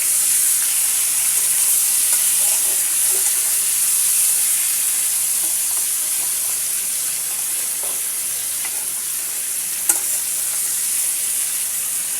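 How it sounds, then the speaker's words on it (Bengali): Spiny gourd (kakrol) pieces fry in hilsa fish oil, giving a steady, loud broadband sizzle throughout with faint stirring clicks and one sharp tap near the end; no voices. "এবার আমি মাছের তেলের মধ্যে কাঁকরোলগুলো ভেজে নিব।"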